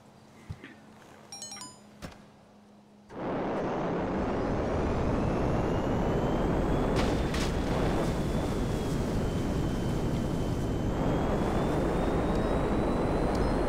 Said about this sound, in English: This is a very fast plane.